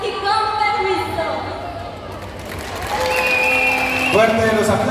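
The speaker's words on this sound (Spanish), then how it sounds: "Fuerte los aplausos" Audience applause at a candidate election and investiture event in San Marcos Huista, broad clapping under sustained musical tones and a speaking voice, fading midway then swelling again.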